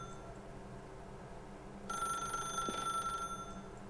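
A telephone in the video game The Stanley Parable Ultra Deluxe rings once, a bright electronic trill lasting about a second and a half over a quiet ambient hum.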